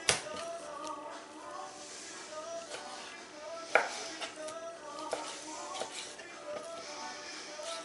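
A kitchen chef knife cuts through raw pork for breakfast sausage, giving soft repeated chopping and tapping strikes on a board, with one sharper knock and faint handling noise between them.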